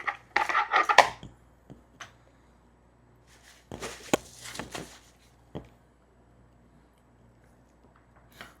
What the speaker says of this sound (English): I'm going to cut a section of this meat away so that we can slice it